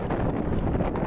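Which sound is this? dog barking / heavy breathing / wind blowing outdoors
wind blowing outdoors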